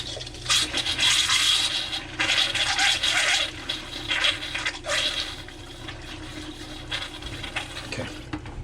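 Water rushes and gurgles as it drains out of the plumbing of a Jayco Jay Flight camper, coming in loud bursts that ease off into a quieter trickle toward the end.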